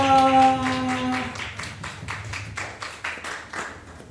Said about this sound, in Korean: 우리 격려의 박수, 환영의 박수 한번 쳐줍시다